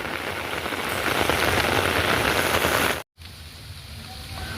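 Heavy rain pours steadily onto farm fields during the sowing season, a dense, loud hiss that cuts out for a split second before resuming slightly softer, with no voices.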